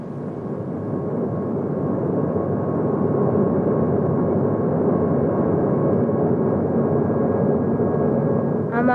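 A steady, droning cabin hum of an airplane in flight holds at an even, fairly loud level throughout with no talking.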